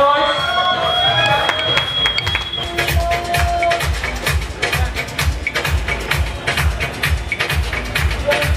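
A crowd cheers and shouts indoors at a lively event, with a steady roar of voices, rhythmic stamping or clapping beats, and an announcer urging them on over the top.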